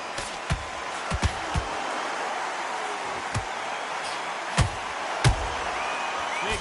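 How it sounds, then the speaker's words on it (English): Punches landing in the boxing video game Undisputed, a handful of sharp dull thumps scattered irregularly over a steady crowd murmur, some in quick pairs. "You can hear the punches."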